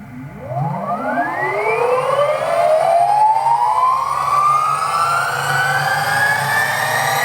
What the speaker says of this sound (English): Those motors sound crazy intense though